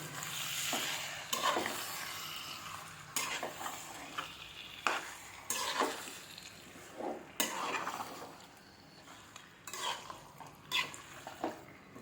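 Chicken being stirred with ginger paste and salt in a pan for gongura curry, repeated scraping strokes of a spoon against metal over a soft sizzle, irregular rhythm, close and fairly quiet.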